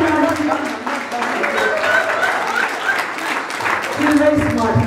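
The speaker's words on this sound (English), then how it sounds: "So I want everyone once to give a huge round of applause for Bobby" An audience at a school event applauds a speech: a continuous wash of clapping from a crowd, mixed with voices, swelling louder toward the end.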